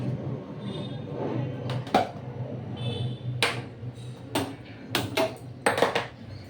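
A kadai wok is set on the stove for vegetarian labra, a series of short metallic clanks and knocks of pots and utensils over a low background hum, without talk.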